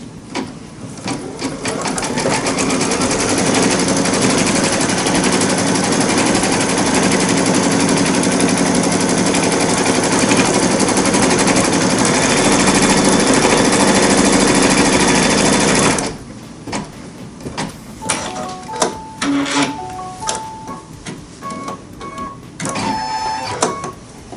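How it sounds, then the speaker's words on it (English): An embroidery machine stitches an applique tack-down line around a Christmas tree ornament outline, a loud, fast, steady mechanical chatter for about sixteen seconds before stopping, followed by softer clicks and short beeps. "now we're going to go ahead and stitch the tack down stitch"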